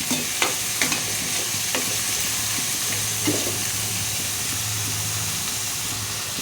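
Medium-size onions frying in oil while being stirred, a steady close sizzle broken by a few scraping and knocking strokes of the spoon against the pan, with no talk.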